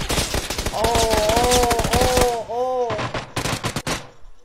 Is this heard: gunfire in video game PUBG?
yes